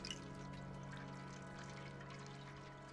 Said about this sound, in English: And then I can drink some water from the leaky roof.